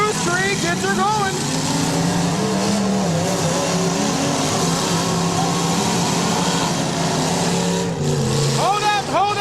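A demolition derby car revving at a county fall derby, loud and sustained engine roar with rising and falling pitch sweeps, crowd noise and announcer talk layered over it throughout.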